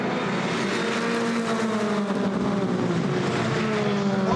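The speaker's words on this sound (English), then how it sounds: "Matt Neal again as they get onto the brakes here at the Villeneuve chicane" World Touring Car Championship cars brake into the Villeneuve chicane at Zolder, engines loud and close with a downshifting whine shifting pitch over a continuous roar.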